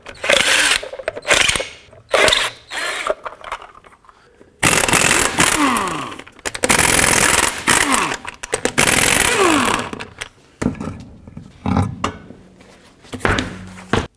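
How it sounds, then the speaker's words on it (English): Lug nuts coming off a 2007-14 Chevy Silverado front wheel, heard as repeated loud bursts of rapid mechanical ratcheting and rattling, several spins separated by short pauses, close up with no talking. "let's take off the lug nut cover, take off the lug nuts, and then remove the wheel"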